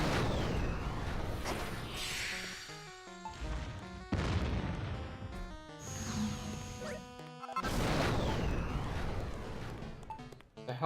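Cannon fire in the Dragon Quest Builders game on PS4: several loud, crashing booms at intervals, each followed by ringing tonal game sound and music, with no talk over them.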